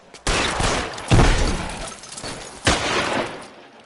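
Gunfire erupts in the video game LA Noire as three loud, close bursts of rapid shots crackle with a harsh, shattering edge, separated by brief ringing decay.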